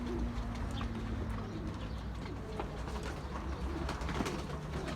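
Pigeons coo softly in a steady, noisy outdoor setting, with faint chirps and background rumble throughout.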